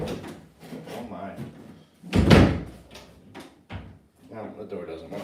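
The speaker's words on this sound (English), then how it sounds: "The door doesn't want to shut." A door being pushed that won't shut, with a loud wooden thud and knock near the middle and a smaller bump later, amid nearby talking.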